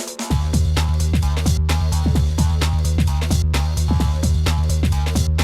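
A remake arrangement plays with its bass line newly added, a driving looped groove of punchy percussion and deep repeating bass notes, loud and continuous throughout.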